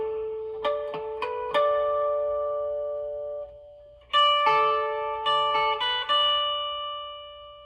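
Guitar plays the Prelude of Light melody from Zelda Ocarina of Time high up the neck, two clean phrases of quick plucked notes ringing out, close and alone, with a brief gap between them.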